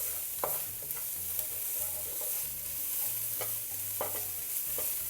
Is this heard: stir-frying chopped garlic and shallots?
yes